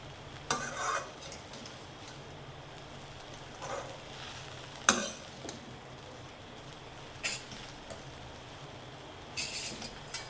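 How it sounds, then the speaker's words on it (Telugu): Aloo poha stirred in a pan after fresh coriander goes in, with a few scattered scraping clinks of a spoon over a quiet, faint sizzle. "వేసుకొని కొంచెం కలుపుకోవాలి."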